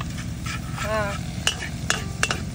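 Garlic sautés for adobong bitik in a pan, a steady sizzle under repeated stirring and scraping, with a few sharp metallic clinks of a utensil against the pan.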